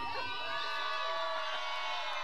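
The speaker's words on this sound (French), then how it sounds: "Je sais pas si vous pouvez entendre les cris de la foule" A stadium crowd at a semi-final soccer match, FC Gatineau against FC Outremont, roars and cheers with high overlapping shouts and whoops, loud and sustained, sounding from a distance across the ground.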